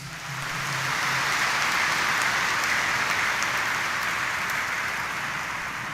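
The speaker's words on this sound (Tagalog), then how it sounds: "Kung mahal po natin ang Diyos, pumalakpak tayo ng malakas." Loud, sustained clapping from a large congregation at a Sunday Mass in Quiapo Church, a dense wash of applause that swells quickly and holds steady throughout.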